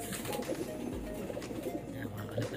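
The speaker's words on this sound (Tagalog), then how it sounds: "Yan, mga kalapatids. Gandang ibon." Soft cooing from breeder pigeons in a hobbyist's loft, low and murmuring under faint background noise.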